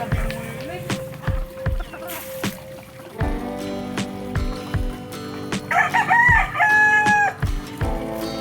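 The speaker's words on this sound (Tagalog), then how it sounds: "Mga manok na uli." A rooster crows loudly nearby on a farm, with hens clucking around it and a person talking over the birds; rhythmic background thumping runs throughout.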